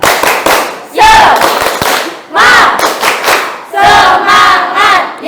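A class of 7th-grade students claps a spirit-cheer rhythm and shouts the chant in unison, loud bursts of rhythmic clapping alternating with chanted voices, close and energetic.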